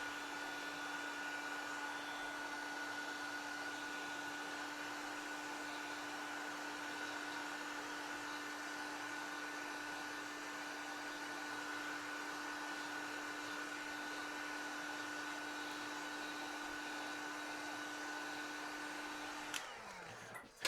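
A hair dryer blows hot air steadily to clean inline skate bearings. The even whirring hum with a constant motor whine runs for about twenty seconds, then cuts off abruptly near the end.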